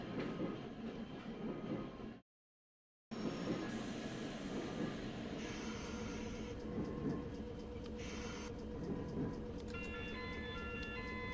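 A tram in Tramcity Hakodate, a game set in Hakodate, gives a steady rumble of wheels on rail with rattling and some squealing, cutting out briefly before the running noise resumes loud and continuous.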